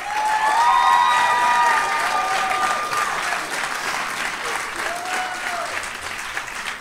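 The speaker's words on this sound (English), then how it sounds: "Please join us again in giving them one more round of applause" Audience applause at a community college communication awards ceremony, sustained clapping from a seated crowd that swells loud at first and then settles, with a few voices faintly mixed in.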